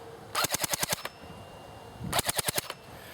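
A JG 608 Mk36c airsoft AEG fires two rapid bursts of about seven shots each, sharp mechanical cracks in quick rhythm separated by a pause, close and loud with no talking.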